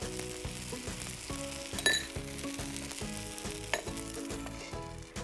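A samba rava roti cooks in oil on a griddle with a close, steady sizzle, a regular pulsing hum underneath and a couple of faint clinks.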